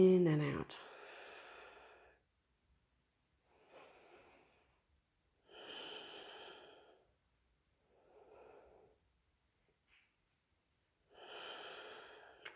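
Slow, audible breaths in and out during a yoga session, heard as several soft, airy exhalations and inhalations spaced by quiet pauses, with one louder huff at the start.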